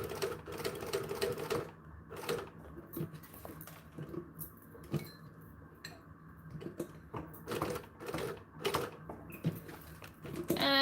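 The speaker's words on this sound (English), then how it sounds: "Stitch, back stitch." A sewing machine stitches and back stitches a leather seam, running in short bursts with pauses and clicks between them, close and moderately loud.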